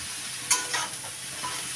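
Chopped onion fries in a pan with a steady hissing sizzle, and a couple of brief scrapes from stirring stand out near the start, at moderate volume and without any voices.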